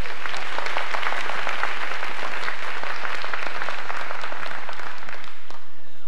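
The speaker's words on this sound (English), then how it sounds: "Another round of applause for him." An audience at a live-streamed event gives sustained, dense applause, many hands clapping loudly and evenly throughout before it starts to thin at the end.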